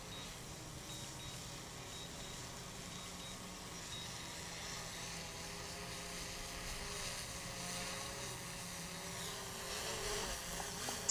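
Small drone propellers hum and buzz steadily while the drone comes in to land outdoors, a continuous whirring drone at moderate distance with no talk, ending in a brief sharp bump.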